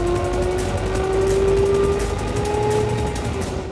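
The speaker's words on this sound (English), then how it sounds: "The first thing you notice driving the RN22e is the noise." The Hyundai RN22e electric car hums through traffic at the N Festival, a steady rising synthetic whine with a sustained tonal pitch over road rumble, loud and continuous, without speech.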